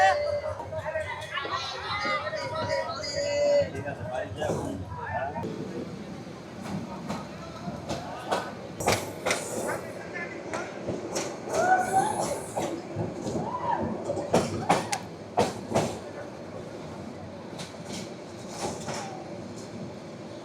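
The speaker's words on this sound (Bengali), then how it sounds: "মহানগর প্রবাতি প্রায় পাঁচ মিনিট যাত্রা বিরতির পর এখন আবার নরসিংদী রেলওয়ে স্টেশন থেকে ছেড়ে দিল" The Mahanagar Provati train pulls out of Narsingdi railway station with rumbling, clattering carriage noise and scattered metallic clanks and squeals, heard from on board while voices talk nearby.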